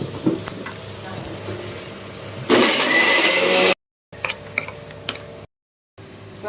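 A mixer grinder blends onion and curd into a masala paste, a loud dense whirring burst of a little over a second, then stops and starts again in short runs. Kitchen background noise and ticks come before it.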